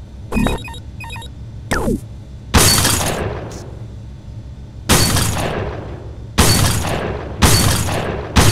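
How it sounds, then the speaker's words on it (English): Bottles shattered by gunfire in the Red Faction PC game, several loud separate bursts of breaking glass, each with a bright crash that tails off, spaced a second or two apart with quiet gaps between. "Be sure to destroy all the bottles."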